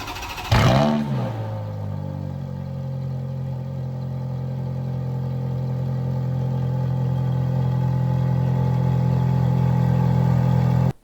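A 2005 Ferrari F430 Spider with a 4.3-liter V8 does a cold start: a brief starter crank and a sharp revving flare, then a loud, steady high idle that swells slightly, recorded close up.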